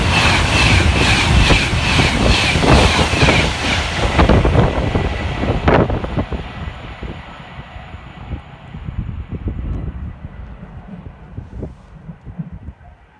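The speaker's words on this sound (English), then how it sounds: "right on his heels for Avanti West Coast is 390-115" An Avanti West Coast class 390 electric passenger train roars past close by at Nuneaton with heavy rumble and wind buffeting, then the noise fades into a quieter rolling clatter.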